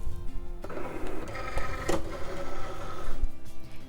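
A Cricut cutting machine loads vinyl on a light grip mat, giving a close mechanical whir with small clicks and a rolling motor drone.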